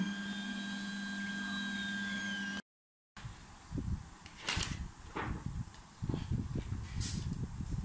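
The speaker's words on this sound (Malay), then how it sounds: "Okay, so 3D printer sedang melakukan proses printing" A 3D printer printing a face shield layer by layer gives a steady whirring motor hum, then a short silent gap, then scattered clicks and light mechanical knocks.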